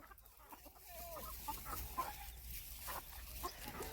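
Chickens on a small livestock farm cluck and call in short irregular bursts, some near and some farther off, over steady outdoor background noise, with no one talking.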